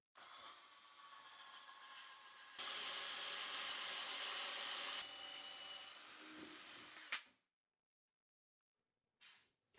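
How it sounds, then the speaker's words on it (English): A power drill whirs in several short bursts through a Kreg cabinet hardware jig, its pitch rising under load as it bores through, then stops abruptly, leaving quiet. "And now we can start drilling our holes"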